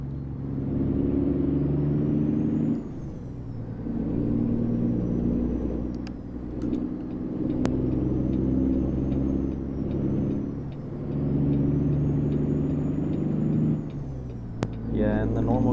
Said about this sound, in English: Oh, the engine brake is mean with this sound pack.